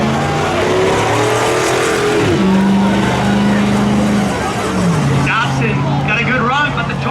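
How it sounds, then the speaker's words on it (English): A street legal Toyota and a Chevy Silverado race at Oxford, their engines roaring loud and steady with rising and falling pitch, under continuous race commentary and crowd noise. "Got a good run, but the Toyota of Kyle Curtis yanks him down the backstretch."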